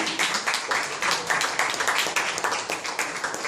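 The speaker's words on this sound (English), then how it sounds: "Give yourselves a round of applause supporting live comedy" A comedy club audience applauds in a steady, dense wash of clapping, close and loud, lasting several seconds with no one talking over it.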